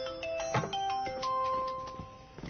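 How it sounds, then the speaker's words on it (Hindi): A phone ringtone plays steadily, a bright electronic melody of repeating tones with faint background noise. "ताओ का फोन है।"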